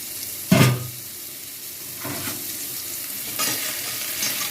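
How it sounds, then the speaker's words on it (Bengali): Salted pieces of young jackfruit fry in a pan; a sharp clatter of stirring opens, then a soft, steady sizzle with occasional spoon scrapes continues close by. "ভাজা হয়ে গেছে, তুলে দিচ্ছি।"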